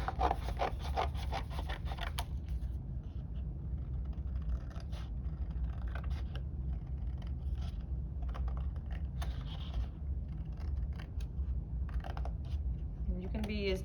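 Scissors snip and rustle through paper while a simple watercolor fish is cut out, a close series of small crisp cuts and scraping rubs running steadily throughout.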